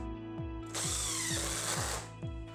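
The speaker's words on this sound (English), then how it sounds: "you can start pre-drilling them, and also you can start the screws for easier installation" A power drill drives screws into a dog door tunnel in one strong burst lasting about a second, close by, over a steady mechanical hum with soft repeating clicks.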